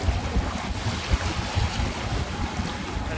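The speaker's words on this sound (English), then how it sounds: "it's very blowy in here at the moment." Wind blows steadily across the foredeck of a sailboat at anchor near Percy Island, a constant low roar of buffeting gusts with faint water wash beneath and no speech.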